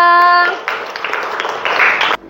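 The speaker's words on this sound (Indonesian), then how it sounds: "Tepuk tangan untuk Praya." A classroom breaks into applause for a student who answered correctly during an Indonesian-language lesson on fact and opinion; a short tonal sound opens, then a steady burst of clapping runs for under two seconds before stopping abruptly.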